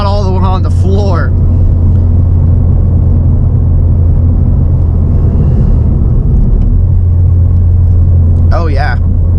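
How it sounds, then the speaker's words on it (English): Ford Fiesta ST engine held at full throttle, a loud steady low drone with rumbling road noise filling the whole stretch, while short bursts of speech come through at the start and near the end. "It's weird having full throttle, like not all the way on the floor."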